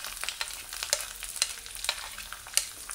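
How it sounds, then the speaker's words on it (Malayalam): Grated coconut and sliced onion frying in a pan of oil for kadala curry, a steady close sizzle with light crackle and occasional sharp pops, no talking. "സവാളയും ഇതും ലൈറ്റ് ഗോൾഡൻ കളറായിട്ടുണ്ട്, നന്നായിട്ടൊരു ഫ്രൈ ആയിട്ട് വന്നിട്ടുണ്ട്"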